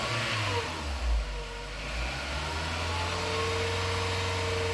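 Car engine revving up as the driver presses the accelerator during a diagnostic check with a Delphi interface; a steady, close mid-pitched engine drone climbs and holds for several seconds, with no talking.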